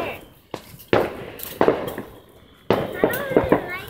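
Fourth of July fireworks go off at a distance, a few sharp separate bangs and crackling bursts spread over several seconds, with people talking in between.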